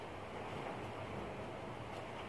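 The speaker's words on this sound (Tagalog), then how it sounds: "lakas na ng hangin sa labas guys" Strong wind blowing outside, a loud, steady broadband rush with low buffeting gusts throughout, like wind hitting a microphone, with no voices.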